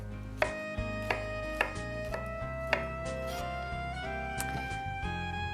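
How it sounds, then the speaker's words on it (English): A knife coarsely chops garlic cloves on a board, about six sharp, evenly spaced strikes heard close up over a steady musical tone in the background. "cloves of garlic that I will coarsely chop, just roughly."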